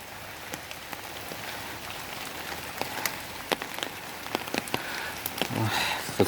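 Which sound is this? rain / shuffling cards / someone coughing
rain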